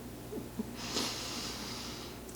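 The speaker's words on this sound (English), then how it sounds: "let's take a deep breath" One slow, deep breath drawn in and let out close to the microphone, soft and airy with a faint rasp, set against a quiet background hum.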